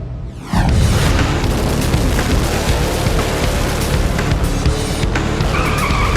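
A drag racing car launches with a sudden loud roar that stays dense and continuous, with tire noise and a harsh, sustained engine blast close by.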